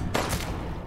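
Two quick, loud gunshots crack in close succession in Resident Evil Village, ringing out over a dense background.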